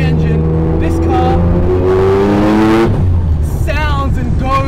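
A turbocharged 13B rotary engine in a Mazda FD RX-7, a big single-turbo build of about 700 hp, revs up in a rising, buzzing climb and then falls back. A voice is briefly heard near the end.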